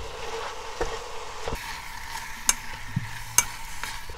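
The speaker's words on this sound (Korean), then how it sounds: "그렇게 들기름 넣고 볶아줘?" Taro stems and shrimp stir in perilla oil in a pan, giving a soft, steady sizzle broken by a few scraping and clinking spatula strokes against the pan.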